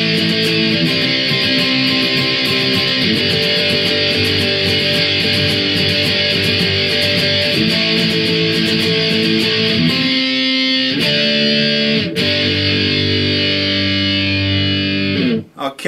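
An electric guitar plays the outro of a song with heavy distortion. The strummed chords are loud and dense and drive steadily for sixteen seconds, with a brief pause and a chord change near the end.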